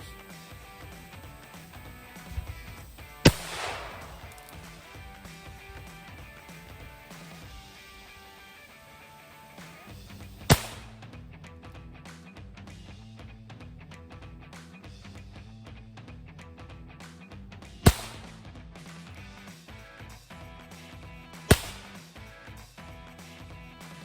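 Four sharp revolver shots fired at a Toyota windshield, spaced irregularly several seconds apart, loud and distinct over a faint steady background hum.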